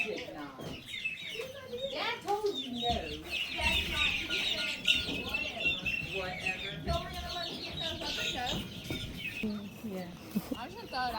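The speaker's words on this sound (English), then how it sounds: "They're having a chicken swap, so we came out to check it out" Chickens clucking and squawking at an outdoor chicken swap, a busy flock of overlapping calls heard close with people talking in the background.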